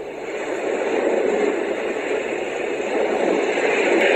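A white noise sound machine set to its ocean setting gives a steady, continuous broadband wash with no distinct waves, holding an even level throughout.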